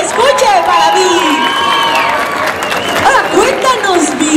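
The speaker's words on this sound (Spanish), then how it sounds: "¡Fuerte los aplausos, chicos! ¡Que se escuche para mí!" A crowd at the Mundo Magyc 2023 fan event cheers and claps for a performer, a loud, steady wash of applause and excited voices with some shouting over it throughout.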